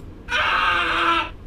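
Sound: scream sound effect played in Mecanim State Sound, Master Audio

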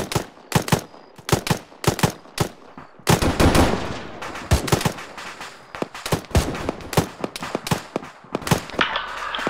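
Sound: machine gun suppressive fire in video game Arma 3

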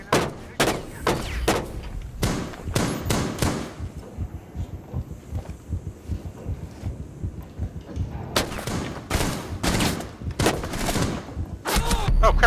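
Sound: gunfire in the video game Rainbow Six Siege

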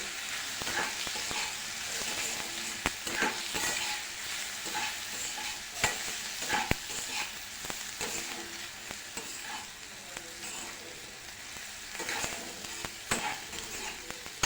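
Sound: spice mixture being sautéed in oil for sukat

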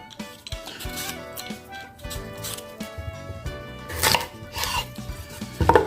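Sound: peeling beetroot skin with gloves on

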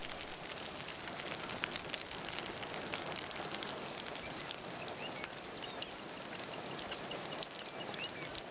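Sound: heavy rain

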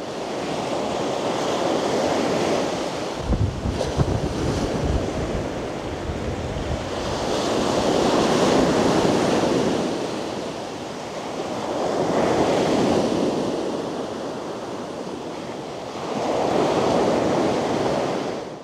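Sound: ocean waves at Koura beach, Chiba

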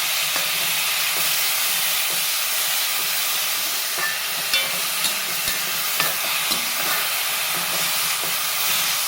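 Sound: stirring vegetables frying in a pan

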